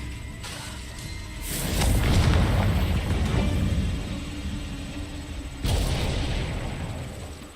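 Repeated spell blasts from the Confringo fire spell in Hogwarts Legacy, a Harry Potter wizard combat video game: a swelling rumbling boom in the first seconds, then a second sharp burst near the end over a steady game backdrop.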